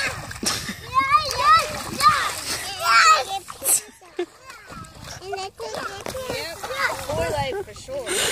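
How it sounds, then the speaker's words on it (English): Children splash and churn up muddy water, with continuous close splashing under excited children's voices and adult talk throughout. "Splash the other way, please."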